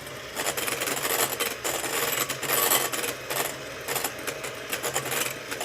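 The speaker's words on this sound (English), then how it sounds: "You always want to turn your mixer off before you pull it out of your batter or your egg whites." An electric hand mixer whirs steadily while beating egg whites in a test kitchen, a loud continuous buzzing with rattling beaters and slight fluctuations in intensity, heard alone without talk.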